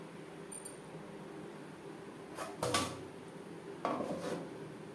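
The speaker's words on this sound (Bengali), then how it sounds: "ঢাকনা চাপা দিয়ে" A kitchen pot of masoor dal with amra sits quietly until a metal lid clinks and clatters into place on it, two close, brief metallic knocks over low background hum.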